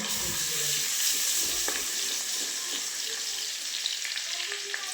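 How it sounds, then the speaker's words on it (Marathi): Cumin and garlic temper in hot oil in a pan for a dish of safflower greens, giving a steady close sizzle and crackle with occasional scrapes and clinks from stirring. "आता फोडणी चांगली आधी परतून घेते"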